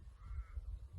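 Harsh corvid-like caws from magpies flying about in snowy Tasmanian mountains in Australia, a faint call over a steady low rumble of wind or background noise.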